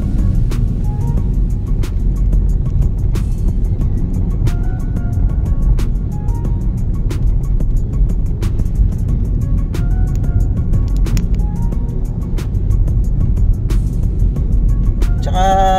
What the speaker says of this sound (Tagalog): gawa ng maraming dumadaang sasakyan